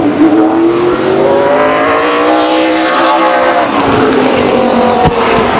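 A race car, the No. 38 from Fremont in a 2003 SRL event at Stockton 99 Speedway, roars around the track. The loud, steady engine note rises and falls in pitch for the whole stretch, with no talking.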